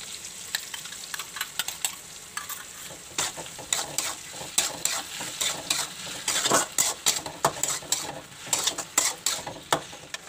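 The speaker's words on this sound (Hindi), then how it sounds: "अब सबको मैं अच्छी तरह से मिक्स कर लूँगी" Capsicum and onion being stirred in a frying pan for chilli paneer, with steady sizzling beneath repeated utensil scrapes and clacks against the pan, close and fairly loud, no voices.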